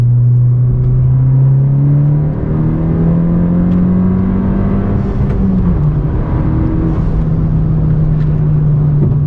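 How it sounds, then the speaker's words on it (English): A car running a blend of 91 octane and E85 pulls hard through third gear, its engine drone rising steadily in pitch for several seconds before a brief dip as the revs change, loud and close from inside the cabin. "Actually, I'm gonna do a third gear pull, I guess."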